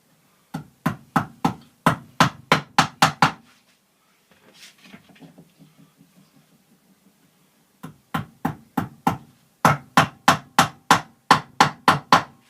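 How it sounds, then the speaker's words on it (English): Bursts of rapid, evenly spaced hammer blows on wood, ringing loud and close, separated by a quieter stretch of softer tapping. "I love banging nails in"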